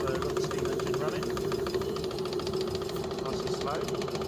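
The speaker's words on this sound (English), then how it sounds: "so we've got the steam engine running." Small model steam engine running slowly off a homemade high pressure boiler: a steady mechanical hum with fast regular knocking and rattling, close and continuous throughout.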